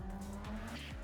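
Drift car tyres squealing through a handbrake drag at Nikko Circuit, a short burst of engine note with tyre screech and two quick pitch drops as the car slides.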